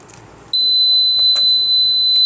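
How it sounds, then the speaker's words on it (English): A loud, high-pitched electronic buzzer switches on abruptly and holds a steady piercing tone, with faint clatter underneath. "This buzzer is turned off manually by the reset button"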